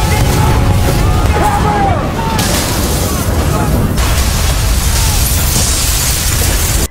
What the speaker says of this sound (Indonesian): Bom itu meledak di seluruh gedung Midland Circle.